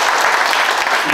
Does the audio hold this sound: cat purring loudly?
no